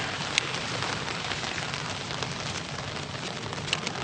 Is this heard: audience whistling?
no